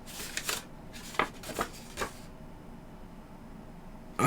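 A paper registration card from an Audio-Technica AT2020 microphone box being handled, with quick papery rustles and flicks over the first two seconds, then near quiet.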